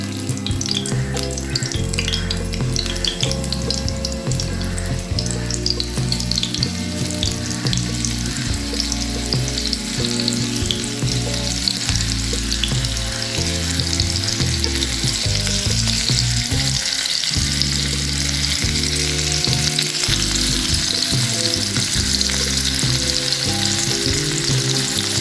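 Pieces of seer fish (surmai) fry steadily in hot oil in a pan, a continuous dense sizzle and crackle running unbroken throughout, close and fairly loud with no talking.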